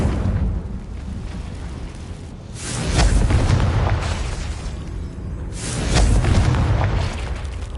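Two heavy booming blasts from the Confringo spell in Hogwarts Legacy, each a loud broadband burst with a rumbling tail, roughly three seconds apart over a steady low background drone.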